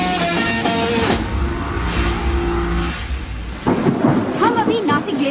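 Heavy rain with rolling thunder, a dense roar and low rumbles mixed with a passing vehicle and film score, with brief voices near the end.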